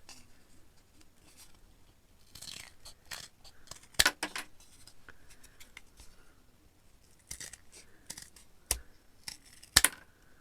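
Scissors cut the ends off craft material for a Barbie DreamHouse makeover, heard as scattered sharp snips and clicks, some close and crisp, with quiet handling noise in the pauses between cuts.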